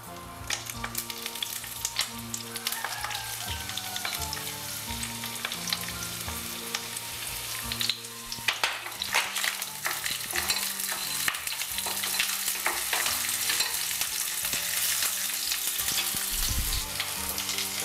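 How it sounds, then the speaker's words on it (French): Onions fry in hot oil in a pan for a Mauritian-style dish, giving a steady, close sizzle with scraping and stirring clatter throughout and no talking. "Et donc, maintenant, nous frions nos oignons."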